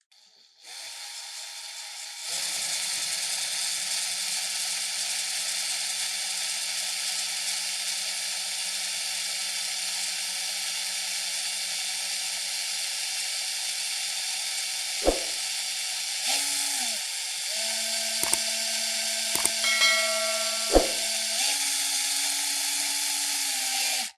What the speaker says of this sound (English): And I'm drilling slowly and not applying much pressure. I'm letting the drill bit do the work.